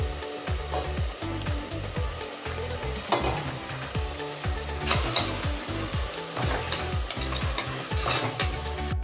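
Coriander and mint leaves fry in a pan with a continuous sizzle under repeated scraping strokes of a spoon, rhythmic and close, with no talking.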